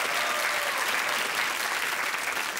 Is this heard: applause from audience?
yes